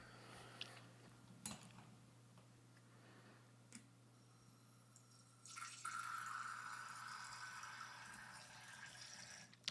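Tap water runs into a laboratory beaker, a steady hissing fill that starts after a few faint ticks and clicks and carries on at moderate level, close, over a low constant hum.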